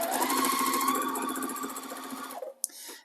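A sewing machine chain-pieces quilt blocks for a Trip Around the World quilt, a loud, close, continuous whirring run of rapid stitches that stops abruptly, followed by a brief clunk.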